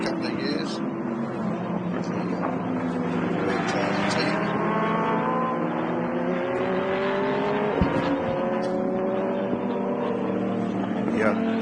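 A classic race car at the Montjuïc circuit in Barcelona drives a lap with a sustained engine note that rises and falls as it changes gear. Commentators talk continuously over the engine.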